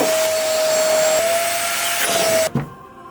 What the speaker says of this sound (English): Into the old hoovering.